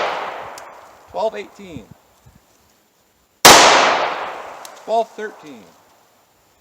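Two loud, close 9mm pistol shots with Federal HST 124 grain +P ammunition, one at the start and one a few seconds later, each ringing out sharply, while a man reads out numbers in between.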